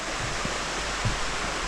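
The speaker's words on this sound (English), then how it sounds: "the water's continuing to be directed to the side of the main river" River water flows alongside a hiking trail in Switzerland, a steady broadband rush with a couple of faint low knocks, continuous and fairly close.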